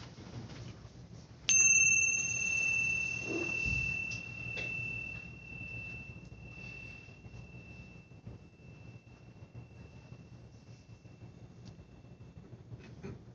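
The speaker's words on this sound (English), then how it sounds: "as I sound the bell." A mindfulness bell rings once, clear and close, during a stress-reduction session for a prostate cancer support group. The bright tone holds steady and fades slowly over about eleven seconds against quiet room hiss.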